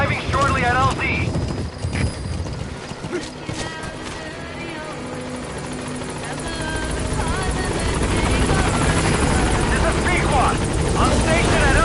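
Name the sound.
helicopter arriving at landing zone in Metal Gear Solid V video game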